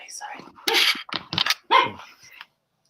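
Dog barking in a few sharp, close bursts mixed with whispery voice sounds, loud and brief, then silence.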